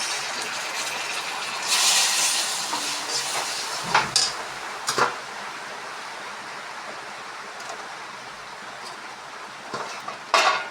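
Soy sauce poured into a hot pan, giving a broad hissing sizzle that swells early, then settles into a steady fizz with a few clinks and taps, no voices.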